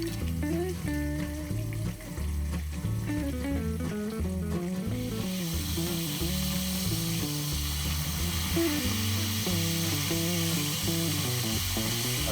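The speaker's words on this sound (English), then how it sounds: "I'll let the scallopini cook until they're brown on one side." Chicken scallopini sears in a frying pan with a steady sizzle that runs throughout, beneath louder, continuous music.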